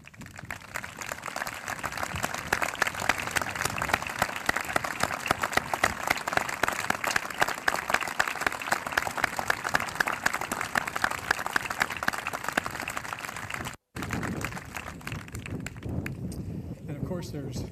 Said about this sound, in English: please stand so that we can give you a round of applause?